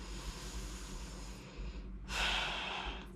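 One slow, full deep breath during a strap-assisted stretching session, a long soft airy inhale followed by a stronger exhale, close to the microphone and quiet.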